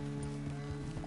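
Horse hooves in the video game Red Dead clop in a quick rhythmic pattern over a steady tonal hum of background music, brief and moderately loud.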